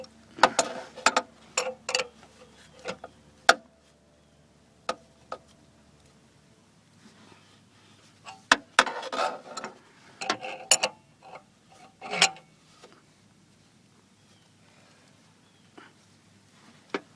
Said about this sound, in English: back to using the crescent wrench because it can't fit in here